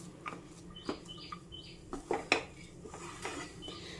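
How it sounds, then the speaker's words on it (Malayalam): Spoon stirring a thick mango dessert in a pan just taken off the stove: faint, scattered metallic clinks and scrapes, close by in a quiet room. "നല്ലപോലെ ഒന്ന് ഇളക്കി യോജിപ്പിച്ചാൽ മതി."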